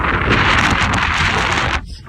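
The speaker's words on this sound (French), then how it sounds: "oh là là, le vent qu'il y a" Strong wind buffets the microphone outdoors at a shop under construction, a loud continuous roar and rumble that cuts off abruptly near the end.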